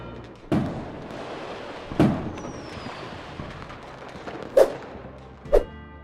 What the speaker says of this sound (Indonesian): Sekitar 15 menit lamanya, kembang api terus memukau masyarakat Brazil di sana.